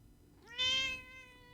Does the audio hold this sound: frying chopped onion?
no